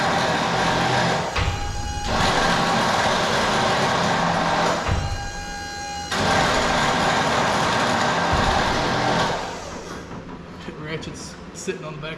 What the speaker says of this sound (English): Ratchets sitting on the back of the cylinder head slowly getting cut. You can hear it like every time.